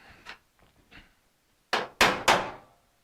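A clip nut is hit onto a bolt on the hood of a 1957 Chevy with three sharp, loud metallic knocks in quick succession, after a few fainter taps.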